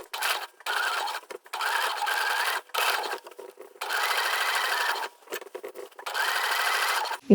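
A sewing machine stitches along a gathering line on a garment in several steady runs of rapid whirring, each stopping abruptly, with short pauses between bursts and no talk.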